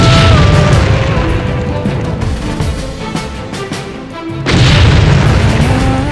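A musket fires with loud, booming broadband blasts, a heavy report at the start and another near the end with rumbling decay between. No voices are heard.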